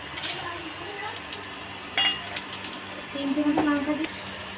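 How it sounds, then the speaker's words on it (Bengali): Cumin, bay leaf and dried chilli tempering fried in oil, a soft crackling sizzle with a few utensil clinks against the pan, rising toward the end, under a faint background voice. "আর ডালে ফোড়ানোর জন্যে জিরে, তেজপাতা, শুকনো লঙ্কা আমি তেলের মধ্যে দিয়ে দিলাম।"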